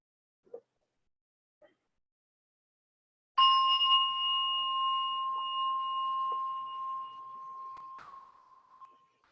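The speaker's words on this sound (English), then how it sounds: "I'm going to ring the bell one final time to bring us back into this moment." A single bell struck once to close a chair yoga session, ringing out clearly and sustaining a long, bright, slowly fading tone in a quiet room after a few faint taps.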